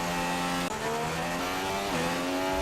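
McLaren Formula 1 race car engine in the F1 2016 video game, a loud high-pitched whine that holds steady, dips briefly as the gears shift and climbs again, close and continuous with no voices.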